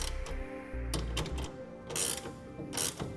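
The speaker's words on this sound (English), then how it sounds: "Now we'll take our 9/16 inch wrench and tighten it down." 9/16 inch wrench ratcheting as it tightens a clamp on a BAKFlip MX4 hard tonneau cover, with several quick bursts of clicking pawl strokes separated by short pauses, close up.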